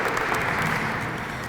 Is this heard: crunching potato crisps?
no